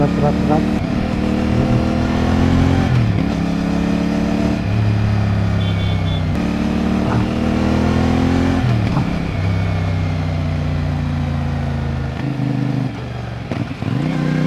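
A Honda motorcycle, a 450NK just out of its first maintenance service, runs on the road with a steady engine drone that climbs and drops through gear changes, while a rider talks over it the whole time.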